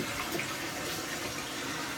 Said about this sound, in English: Oh, she's flushing beautifully now.